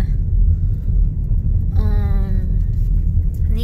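A car cruises through remote Arkansas countryside, its steady low road rumble and engine drone heard from inside the cabin, with a brief tonal whine rising partway through.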